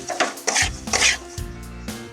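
Semolina is stirred in a pan, producing a few close, brisk scraping and rubbing strokes with light metallic clinks of the utensil, loud and alone with no talk.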